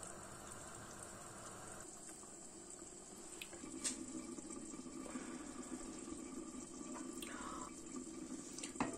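A pot of cranberry beans comes to the boil, giving a steady bubbling, watery hiss with scattered faint pops, quiet and continuous throughout.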